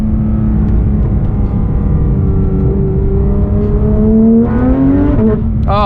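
A 2019 Porsche 911 GT3 RS engine revs while driving, heard from inside the cabin as a loud, steady drone that climbs in pitch before a brief shift.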